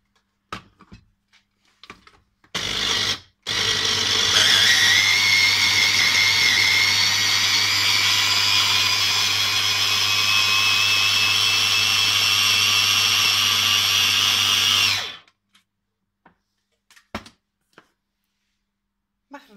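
An electric blender whips sheep's cheese with Florina peppers for tirokafteri, starting with a short burst, then a steady loud motor whir for about eleven seconds before stopping, with faint sounds before and after.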